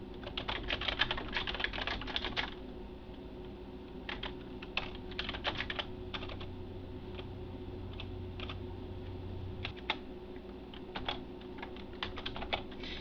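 A computer keyboard is typed on in quick, irregular bursts of crisp clicks close by, heaviest at the start and then in scattered short runs, with no talking.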